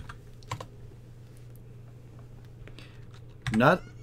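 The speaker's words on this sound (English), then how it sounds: "We'll type it out." Computer keyboard typing, with scattered quick key clicks at a moderate distance, and a short burst of voice near the end.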